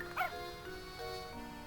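A cartoon dog in the puzzle video game Professor Layton and the Curious Village gives a single short, bright bark near the start, over a steady bed of soft game music.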